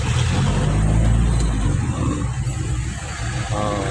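Busy street traffic in Noro, Maguindanao, with motorcycles and tricycles: loud, steady engine rumble and revving close by for the whole stretch, a vehicle pulling through early on, with no talk.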